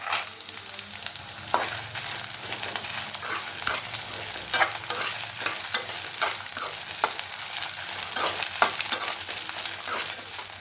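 Dry red chillies and garlic fry in a pan for garlic chutney, giving a steady, close sizzle with frequent sharp scrapes and clicks from stirring, and no voices.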